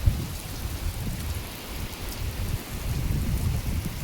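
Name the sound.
heavy rain falling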